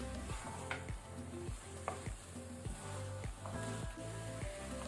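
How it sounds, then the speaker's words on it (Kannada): Mutton fries with masala over a medium flame, a steady sizzle running beneath louder background music with repeating tonal notes. "ಈಗ ನಾವು ಮಟನ್ ಅನ್ನು ಸ್ವಲ್ಪ ಮಸಾಲ ಜೊತೆ ಮೀಡಿಯಂ ಫ್ಲೇಮ್ ಅಲ್ಲಿ ಫ್ರೈ ಮಾಡ್ಕೊಳ್ಳುವ"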